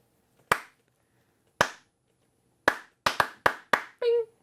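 Single sharp hand claps ring out alone in a quiet room, first spaced slowly, then quickening into a rhythmic run of four, followed by a brief vocal sound at the end.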